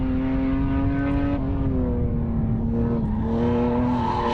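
HQ Holden race car accelerating around the Morgan Park circuit, a loud sustained engine whine rising in pitch, dipping briefly at a gear change, then climbing again.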